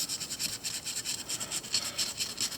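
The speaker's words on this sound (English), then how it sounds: "and start sanding, trying not to touch the rock" A folded strip of wet 320-grit sandpaper is rubbed over a fossil echinoid (Scutillaster major) in quick back-and-forth strokes, making a soft, steady, close rasping with no voices.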